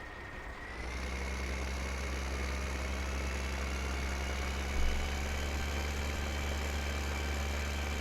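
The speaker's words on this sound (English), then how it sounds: "This is probably kind of a small tractor to be having on this planter, but it does the job" A small tractor hitched to a planter in a farming video game runs steadily at a low, even drone after starting up, with a brief thump midway and no talking.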